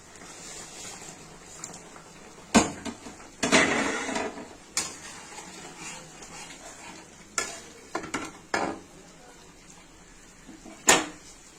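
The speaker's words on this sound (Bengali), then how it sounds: "এবার এক এক করে কোপ্তাগুলো সব ছেড়ে দিচ্ছি।" Chhana koftas slipped one by one into simmering gravy in a pan, a soft background bubble broken by several separate splashy thuds and clatters spread across the stretch, no voices.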